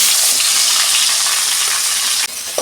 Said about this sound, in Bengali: কড়াই তেল দিয়েছি, মাথাটা আমি ভেজে নেব।